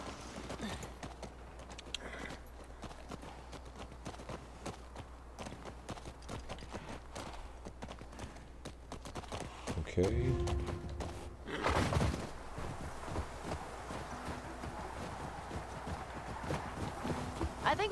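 Horse hooves clip-clop steadily in The Last of Us Part II, a continuous walking rhythm of soft thuds heard through game ambience, with louder bursts of sound near the middle and voices talking over it.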